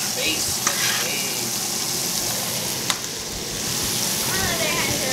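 Steak sizzling in butter in a pan, a steady broadband frying hiss with a few sharper crackles and pops, heard up close throughout.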